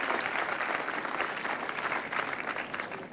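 Crowd at Browns Plains Tenpin applauding a spare at a tenpin bowling match, a dense, steady wash of clapping that keeps going throughout at a fairly loud level.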